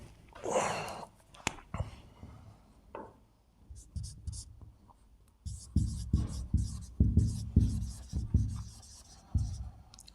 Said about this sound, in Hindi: इधर लिख दे रहा हूं।